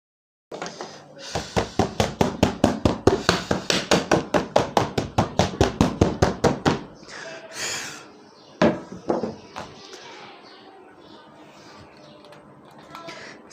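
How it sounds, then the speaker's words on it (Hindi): Sandpaper rubs over a canvas being primed for painting in a fast, even run of scratchy back-and-forth strokes. A few slower, scattered rubs and faint handling noises follow at close range. "जो जगह मुझे फ़ील हो रही हैं कि जिस रब नहीं हुई अच्छे से, मैं उनको रब कर लेता हूँ पहले"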